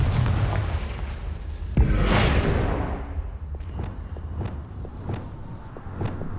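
A Confringo blasting spell goes off in Hogwarts Legacy as a single loud booming explosion with a rushing whoosh, followed by scattered lighter impacts and footstep-like taps.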